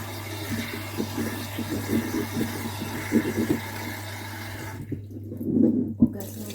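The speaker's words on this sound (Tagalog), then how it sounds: "hugasan ko lang ulit ito" Water runs into a sink as food is rinsed under the tap, a steady splashing stream with bursts of handling and a low background hum, stopping briefly near the end.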